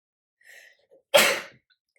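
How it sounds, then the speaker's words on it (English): A woman sneezes twice while working on stencils in a planner, a small stifled sneeze followed by a louder, sharper one, close and alone in a quiet room. "Two sneezes always, excuse me."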